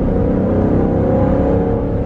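Dodge Durango R/T Hemi V8 engine revving, a loud, steady, deep rumble filling the whole short stretch with no speech over it.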